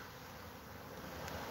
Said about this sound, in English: I'm assuming it's scout bees.